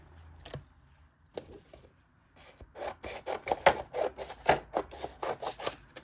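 White card is trimmed for a Christmas craft project, heard as a series of close, rhythmic rasping strokes that start sparse and then speed into a quick, even run.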